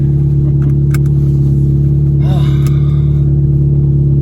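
A Ferrari 360 Modena with a gated manual gearbox runs with a loud, steady, close engine drone that holds an even pitch throughout, with no clear rise in revs, and a few faint brief sounds above it.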